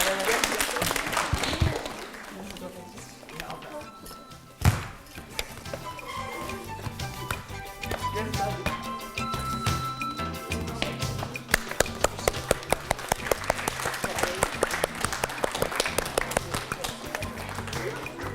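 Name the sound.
audience applause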